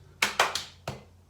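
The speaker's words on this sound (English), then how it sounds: "3 claps." Three quick, sharp hand claps in fast succession, close and distinct in a gym, followed a moment later by a single slap of a caught ball.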